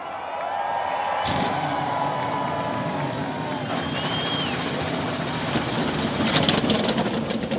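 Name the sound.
race car engines starting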